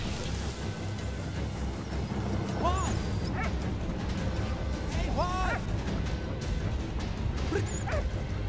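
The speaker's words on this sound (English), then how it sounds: "Poor dog." A dog in the wartime game Valiant Hearts barks and whimpers in short yelping bursts, a few separate cries rising over constant battlefield rumble and low game noise.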